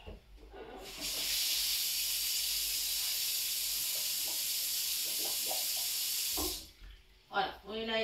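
Cold water pours steadily into blended tomatoes in a food processor, a loud continuous hissing stream for several seconds, with a person speaking before and after it.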